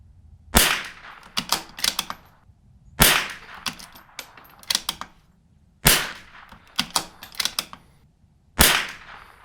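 Custom rifle firing cheap Remington target .22LR rounds outdoors, four sharp, loud cracks spaced about three seconds apart, each followed by a few quieter clacks of the action being cycled.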